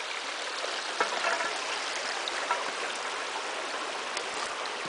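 A brook trout stream flows and gurgles continuously with a broad, steady rush of water, close and fairly loud, with small splashes breaking through and no voices.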